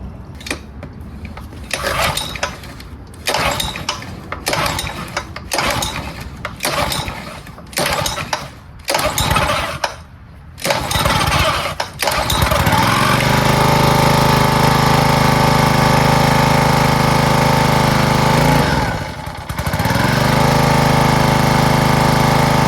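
An old wood splitter engine that sat unused for years gets several pull attempts, heard as rhythmic rattling bursts, then catches and runs steadily and loudly on choke, with a brief dip near the end.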